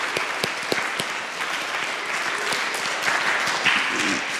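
A church congregation applauds Victoria during a morning homily. A few sharp, separate claps open and quickly build into steady, close, continuous clapping.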